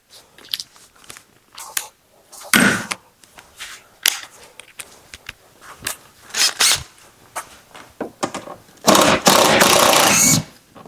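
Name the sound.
impact wrench running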